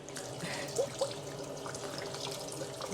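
Tap water runs steadily over bullet jellyfish being rinsed in a sink, a continuous close splashing trickle with a couple of faint drips.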